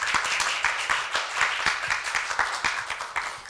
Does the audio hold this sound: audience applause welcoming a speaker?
yes